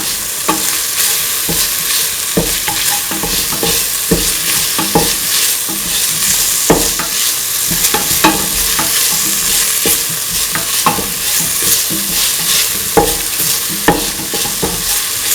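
Chili duck meat sautéed and tossed in a pan, a loud continuous sizzle broken by frequent clacking stirs and scrapes of a spatula, close and steady.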